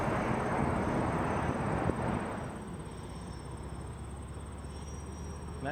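Cathay Pacific Airbus A321 taxiing at Toronto Pearson: a steady, moderately loud jet engine rumble that fades somewhat after a couple of seconds and continues as a softer hum.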